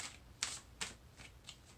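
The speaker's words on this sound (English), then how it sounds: "So I'm just shuffling the cards" Soft riffling and tapping of tarot cards being shuffled, a few quick bursts spaced apart, close and quiet.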